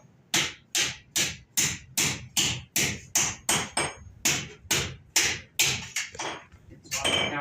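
A hammer strikes metal on the horn of an anvil in a blacksmith shop at Old Sturbridge Village, about fifteen sharp, ringing blows in a steady, close rhythm.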